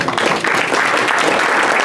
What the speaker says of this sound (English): Please, may I have another round of applause?